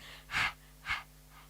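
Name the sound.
voice imitating panting breath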